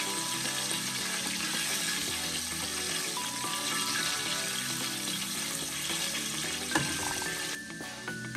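Chicken fries in hot oil with a continuous crackling sizzle, steady and close throughout, with faint clinks and a short tonal hum near the end.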